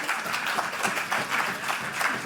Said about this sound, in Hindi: ये स्टूडेंट्स प्लीज़ थोड़ी सी तालियां बजा दो